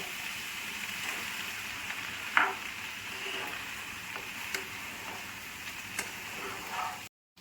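Peas frying in spices in a pan for Bengali motor ghugni, a soft steady sizzle broken by occasional light ticks and scrapes of a spoon, cutting off abruptly near the end.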